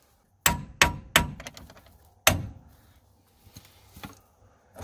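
Hammer blows on a Dana 44 axle part ring out as sharp metallic clangs, three quick strikes then a fourth after a pause, close and loud, followed by softer knocks.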